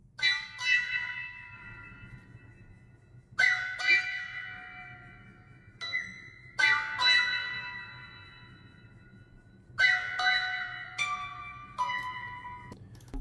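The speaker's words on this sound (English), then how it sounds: "It was a clavinet from one of the Ain't Sounds analog lab banks" Clavinet sample from an Analog Lab sound bank, played for soul-style production, giving a handful of bright, plucky chord stabs with sharp attacks and ringing decays, spaced every few seconds over a low steady hum, with no voices.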